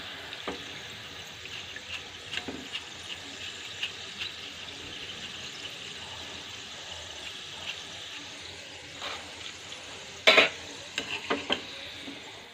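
Shredded potatoes fry in hot oil with a steady sizzle, broken by scraping and clinking as the crisp strands are stirred and lifted out to drain, close and alone without talk.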